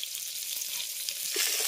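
Fish pieces fry in oil in a pan for a fish curry, a soft steady high hiss that grows a little louder toward the end, heard alone without voices.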